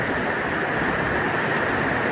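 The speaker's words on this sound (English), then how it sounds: "There's a slight break in the rain" Steady rain pours onto a shelter during a bicycle tour in Florida, a dense, even hiss of drops drumming close by for the whole stretch with no voices.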